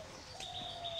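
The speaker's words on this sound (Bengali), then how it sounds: "আর এখানে ঢোকার পর থেকেই পাখির কিচিরমিচির শব্দ শোনা যাচ্ছে।" Birds calling at a resort zoo in Satkhira, with a sustained high chirping tone and softer lower calls running through the whole moment at moderate distance.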